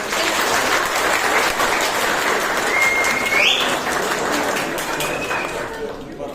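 Sustained loud applause from an audience at a summer science, engineering and technology camp certificate ceremony, steady clapping throughout with a brief whistle-like tone partway through.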